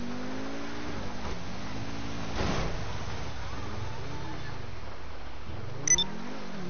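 Car engine in GTA V revving and shifting pitch as it drives, steady and fairly close, with a short burst of louder roar and a brief high squeal near the end.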